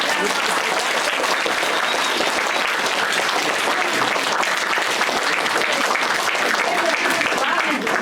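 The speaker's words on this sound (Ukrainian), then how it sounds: "Бурний оплеск." An audience bursts into sustained, dense applause after a theatre performance of Snow White and the Seven Dwarfs, a loud even wash of clapping that continues throughout, with voices mixed in.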